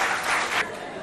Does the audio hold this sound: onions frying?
no